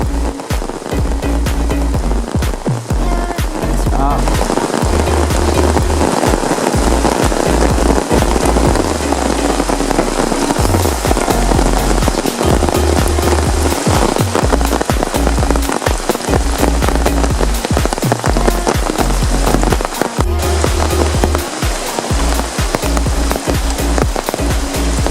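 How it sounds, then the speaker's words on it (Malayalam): Heavy rain pours down beside a river during a fishing outing, a dense, steady hiss of drops drumming on surfaces that fills the scene continuously and loudly, with low rumbling underneath. "മഴ നല്ല ശക്തമായിട്ട് പെയ്യാൻ തുടങ്ങിയിട്ടുണ്ട്."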